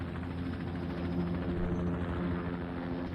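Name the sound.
helicopter sound in video game Aokana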